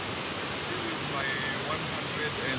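Minjo waterfall on the Thiba River in Kirinyaga gives off a steady, broad rush of falling water that fills the scene without pause, with faint voices and a few high tones riding above it.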